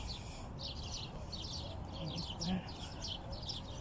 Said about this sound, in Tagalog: Yan, may mga ibon.